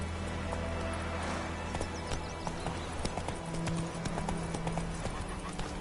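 Galloping horse hooves in The Witcher 3, a fast rhythmic clatter close up, with brief whinny-like tones and steady game ambience beneath.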